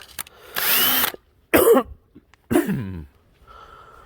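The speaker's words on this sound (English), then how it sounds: "I'm going to drill the bigger hole with an 11/64" A cordless drill with a nearly dead battery drills a hole with an 11/64 bit, whirring in three short bursts close by, each run revving up and spinning down, separated by brief pauses.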